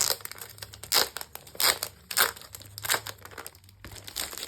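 A pack of patterned craft paper is handled, giving repeated crinkling and rustling bursts at an uneven rhythm, close and fairly loud, with no talk.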